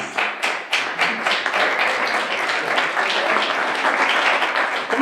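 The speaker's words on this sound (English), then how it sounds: "Let's give her a nice round of applause." Audience at a spoken-word poetry fundraiser applauding a poet, a dense, steady wash of many hands clapping at close range, a few sharper claps standing out near the start, continuing evenly without pause.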